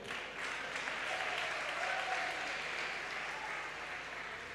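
A church congregation at a Sunday worship service applauds Jesus with steady, dense clapping that fills the room. It stays loud and continuous throughout, with faint crowd murmur mixed in.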